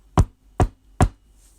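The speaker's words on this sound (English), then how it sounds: "he knocked on my new office door." Three evenly spaced knocks on an office door, sharp and close, each a single solid rap with quiet gaps between them.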